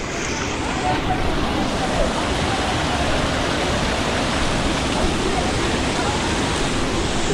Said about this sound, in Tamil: செம்ம ஃபோர்ஸில் இழுத்துட்டு இருக்கு தண்ணி எல்லாரையும்